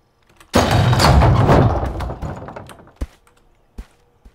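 A counterweight siege engine fires in the game Reign Of Kings, giving a loud broad rush of motion followed by a fading rumble, then two sharp thuds.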